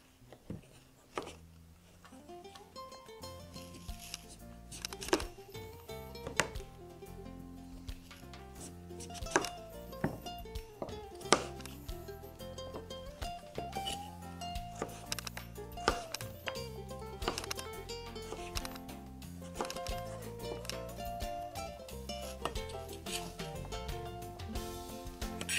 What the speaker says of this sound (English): next I'm going to cut the butternut squash into 1-inch slices.